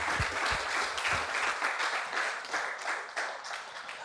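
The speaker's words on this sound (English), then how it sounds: "Give a round of applause." Audience applause at the close of a talk on social entrepreneurship: dense, steady clapping from a crowd that holds at an even level for about four seconds without voices.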